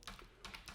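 Code being typed on a computer keyboard, with a short burst of soft, close key clicks in quick succession.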